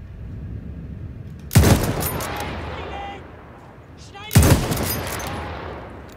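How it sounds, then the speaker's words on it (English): Two loud gunshot blasts, a few seconds apart, in the video game Battlefield 1, each with a sharp attack and lingering echo over a low ambient background, with a voice talking between them. "Are gunshots that loud?"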